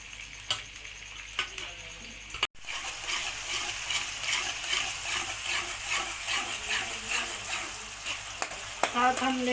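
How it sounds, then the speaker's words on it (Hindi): Oil and ghee heating in a pan for a dhaba-style palak chana dal, a soft, steady frying hiss that rises after a brief knock and continues close, with a few faint clicks and no talking. "गर्म हो रहा है हमारा तेल।"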